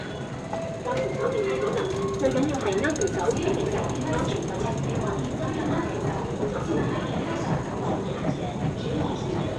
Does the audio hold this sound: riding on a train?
yes